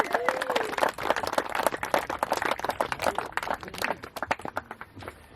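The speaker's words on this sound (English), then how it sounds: "Round of applause, I think." Wedding guests clap in a lively round of applause, close and energetic, with voices and cheers mixed in among the clapping.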